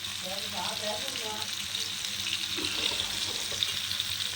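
A whole fish roasting on a tawa sizzles and crackles steadily up close, with a few soft stirring or scraping touches and no voices.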